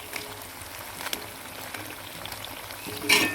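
Rice flour chips fry slowly in hot oil over low heat, a soft, steady sizzle and bubbling close by, with a brief louder crackle of stirring or turning near the end.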